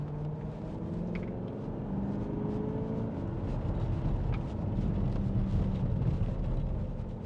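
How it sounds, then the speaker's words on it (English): A 2016 Porsche Cayenne 4.2 V8 diesel engine gives a deep, steady rumble, idling and revving slightly, continuous and close, with no voices over it. "Listen to that engine."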